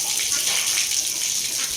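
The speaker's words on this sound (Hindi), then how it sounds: "टब में भी पानी डाल दिया है।" Water gushes steadily into a tub, a bright continuous splashing that fills the whole moment without pause.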